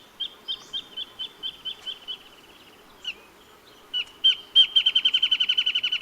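A wild bird sings a bright, clear song: evenly spaced whistled notes, then a few louder separate notes, and finally a rapid accelerating trill like a ping pong ball settling onto a table, heard alone outdoors.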